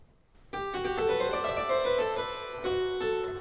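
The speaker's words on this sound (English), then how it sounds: "The third movement has this spinning motif" Orchestral strings playing the spinning motif from the third movement of Bach's Brandenburg Concerto No. 3, a busy, continuous figure entering after a brief silence and carrying on at moderate volume.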